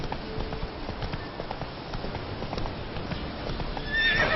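Roach, the horse in the video game The Witcher 3, trots with steady clip-clopping hooves and whinnies over a busy game soundscape. The sound is fairly close and continuous and grows louder near the end.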